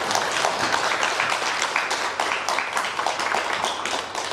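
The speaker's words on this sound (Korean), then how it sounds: "뜨거운 박수 좀 한번 부탁드립니다" Continuous applause from a village gathering audience, dense overlapping clapping at a steady moderate level throughout, somewhat distant and diffuse.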